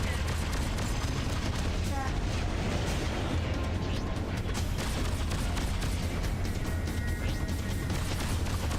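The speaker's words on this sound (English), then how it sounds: "That was the station exploding" A space station exploding in the space game Freelancer, a dense roaring blast with crackling bursts that fills the whole stretch, loud and sustained, with a voice talking over it.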